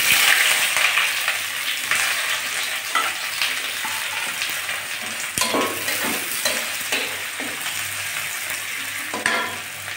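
Black cumin seeds and chopped onions fry in hot oil for a green leafy stalk dish with onion and garlic, a steady close sizzle broken by occasional sharper crackles and stirring scrapes, with no voices.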